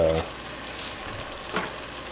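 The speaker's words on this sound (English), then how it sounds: "So now I'm going to stir in these bigger chunks of sausage," Chunks of Italian sausage sizzling and frying in a pot for black bean chili, with a spoon stirring through them; a steady close sizzle with a brief louder scrape of stirring near the start and another midway.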